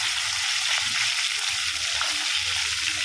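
Masala fish fries in a pan Hyderabadi style, a dense, continuous crackling sizzle up close with faint shifting and scraping as the pieces are turned.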